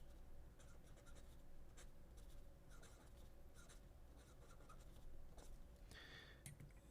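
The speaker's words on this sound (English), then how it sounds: "I'm just going to write the word Mont Blanc." A Montblanc Meisterstück pen scratches across paper in soft, continuous strokes with brief pauses, very quiet and close, with no speech.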